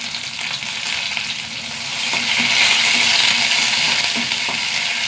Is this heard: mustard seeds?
yes